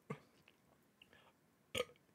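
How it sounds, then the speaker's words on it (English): A short, faint burp after a sip of seltzer, with a small throaty sound before the main burp and quiet room tone around it, no talking. "I burped immediately as I took a sip,"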